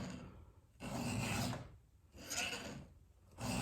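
A square file rasps across a saw chain tooth in three slow, even strokes with short pauses between them, close and fairly quiet.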